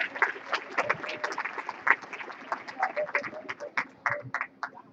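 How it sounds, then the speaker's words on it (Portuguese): Applause for two guests, Cecília dos Anjos and Edson André, as they arrive on stage to give testimony: a dense, steady patter of many hands clapping in a room, continuing unbroken for several seconds. "Os aplausos dos dois."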